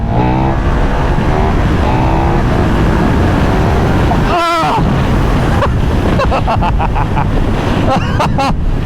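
A KTM 1390 Superduke R motorcycle engine revs hard and accelerates in third gear, loud and close. Its rising pitch is buffeted by wind, with a rider exclaiming over it.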